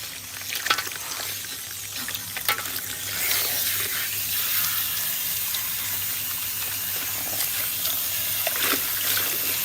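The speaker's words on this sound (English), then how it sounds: "I am rinsing her with warm water" Warm water running from a salon sink sprayer while a client's hair is rinsed, a loud, steady hiss and splash that swells slightly partway through.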